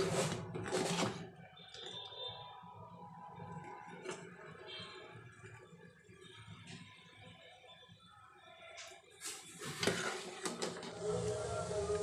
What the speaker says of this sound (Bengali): এখন আমি নাড়তে থাকবো।